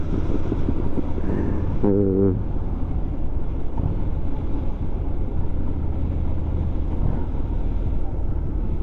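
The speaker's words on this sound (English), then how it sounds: "Guess I didn't really need to rev it up to downshift there" A Harley-Davidson Street 500 motorcycle engine rumbles steadily close by, with a brief rising rev blip as it downshifts early on, then settles back into a low, continuous drone.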